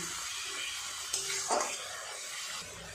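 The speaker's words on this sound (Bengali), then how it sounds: "এই পেস্টটা দিয়ে দিলাম। সমস্ত মশলা একটু ভালো করে কষিয়ে নেব।" A paste of ginger, garlic and mustard fries quietly in a pan, a soft close sizzle broken by a couple of brief scrapes of a stirring spoon.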